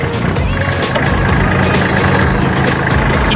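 Steady, loud diesel rumble of a used 2008 Kubota L3408DT tractor engine running close up, continuous and rough with a rattling texture and no pauses.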